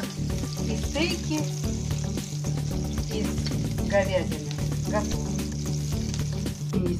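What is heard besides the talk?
beef steaks sizzling while frying in a pan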